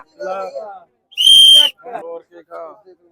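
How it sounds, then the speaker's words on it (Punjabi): One sharp, shrill whistle blast lasting about half a second at a bakram goat-trading gathering, with people talking before and after it. "ਸੀਟੀ ਮਾਰ"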